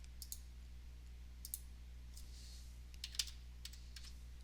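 Computer mouse clicking through software menus, a few sharp, quiet clicks scattered irregularly, some in quick pairs, over a faint steady hum in a quiet room.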